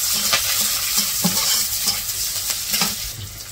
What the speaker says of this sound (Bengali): পেঁয়াজ কাঁচামরিচ ভাজা হয়েছে